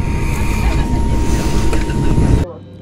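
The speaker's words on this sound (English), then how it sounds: "it was time to be reminded about the other terrible thing about sitting at the back of an MD-80. That horrendous noise." Loud, steady roar of an MD-80's rear-mounted jet engine heard from a seat at the back of the cabin, a continuous broadband rumble with a faint whine that drops away abruptly near the end.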